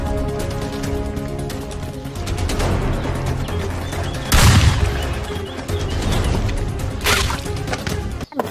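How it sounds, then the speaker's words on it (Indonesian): Rapid electronic gunfire effects from a toy, a dense rattling burst with louder bangs, continuous and close. "Widih-widih, mainan tembak-tembakan."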